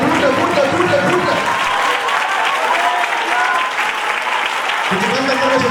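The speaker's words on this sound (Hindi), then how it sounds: "ताली बजा के, ताली बजा के, ताली बजा के" A church congregation at prayer claps hands loudly in a dense, continuous burst of applause for several seconds, with voices mixed into the crowd noise.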